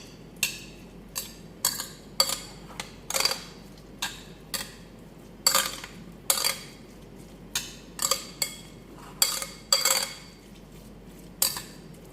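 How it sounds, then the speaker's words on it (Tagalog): A utensil scrapes and clinks against a pan again and again while stirring a chicken tahchin mixture for Iranian saffron rice, in a steady run of sharp metallic strokes over a low background hum, with no talking. "Mix lang natin"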